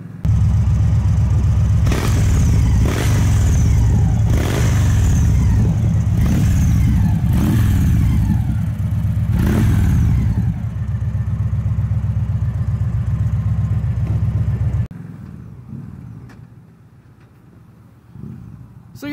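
A 2016 Victory Cross Country motorcycle fitted with Vance and Hines exhaust revs loudly and close, with several sharp throttle blips over a deep rumbling idle before the engine cuts off and things go quiet.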